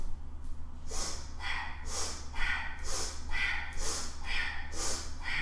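Rapid rhythmic sniffs in and out through the nose during a yoga breathing exercise, about two per second, close and steady, with soft background hum.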